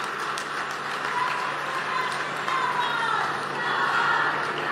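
A large audience at a BJP Tiranga Yatra event in Jaipur applauds to welcome the party's national president, JP Nadda, with steady, sustained clapping from a crowd that carries on throughout, with a voice faintly over it.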